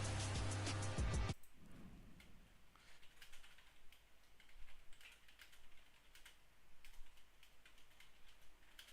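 Steady computer keyboard typing runs for several seconds, preceded by a short loud burst of other sound at the start, with soft clicks continuing at moderate volume and no talking.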